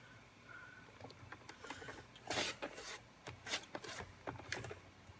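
Cardstock edges are trimmed for a handmade Christmas card, giving a few soft, brief cutting swipes and paper rustles spaced over a few seconds, faint and close in a quiet room.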